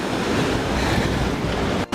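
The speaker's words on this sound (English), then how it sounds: "Check out these waves." Ocean waves break on a Dominican Republic beach, a loud continuous wash of surf mixed with wind buffeting the microphone, cutting off abruptly at the very end.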